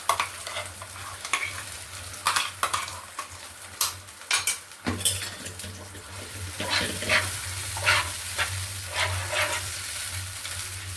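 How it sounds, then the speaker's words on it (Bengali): Ground spice paste fries in a pan for a duck egg curry, a steady low sizzle broken by repeated scraping and clinking strokes of a spoon stirring against the metal, close up with no talk. "এরপর আমি এর মধ্যে বেটে রাখা মশলাগুলো দিয়ে দেবো"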